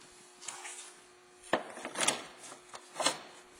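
A plastic splash shield on a Ford Focus scrapes and rubs into place with a few quiet, close sliding scuffs and small knocks.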